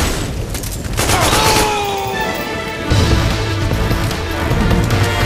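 Rapid bursts of AK rifle fire in Metal Gear Online 2, loud and dense with crashing impacts layered over the shots, while players talk over the gameplay.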